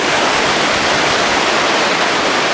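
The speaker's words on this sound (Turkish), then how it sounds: "Kılmızca şelalemiz burası arkadaşlar." Kılmızca waterfall in Cide, roughly 15 metres high, pours down steadily as a loud, continuous broadband roar of falling water that runs unbroken without any talk.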